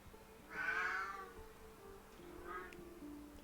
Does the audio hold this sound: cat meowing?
yes